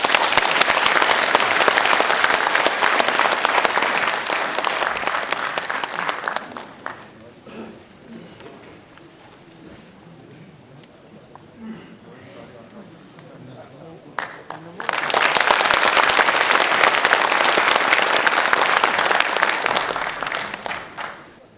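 An audience at a national apple growers' winter meeting applauds to welcome a speaker; loud clapping runs for about six seconds, fades to a quiet room with faint talk, then a second strong burst of applause returns.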